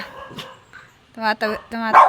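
A dog barks several times in quick succession, loud and close, after a brief quieter yelp.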